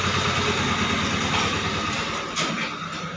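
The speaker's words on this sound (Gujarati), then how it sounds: "બહાર ટ્રેક્ટર જાય છે" A tractor engine rumbles past outdoors, a steady low droning throb with broadband noise that holds fairly loud for a few seconds and eases slightly near the end, with no speech.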